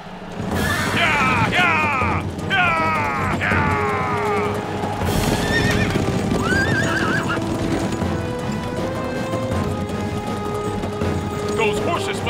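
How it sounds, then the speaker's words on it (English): Cartoon horses in a gladiator-era chariot race neigh and whinny loudly several times over steady galloping hoofbeats, with a busy, continuous race din throughout. "Those horses must be demons."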